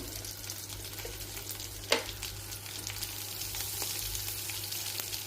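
Green chilies sautéing in a pan with salt, a continuous steady sizzle with occasional stirring scrapes and one sharper clatter early on.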